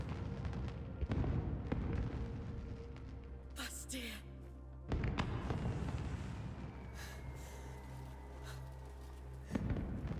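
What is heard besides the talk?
fireworks going off in the video game Crimson Desert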